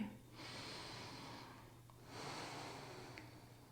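Slow breathing during a seated chair yoga session: a long inhale followed by a long exhale, each a soft, airy rush lasting about a second, close and fairly quiet over a low steady background hum.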